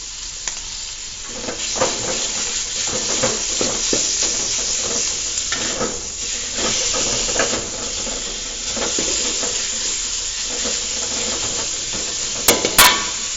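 Ground beef being stirred as it fries in a pan with flour and pepper, a steady close sizzle broken by repeated scraping stirs, with a few sharp clinks near the end.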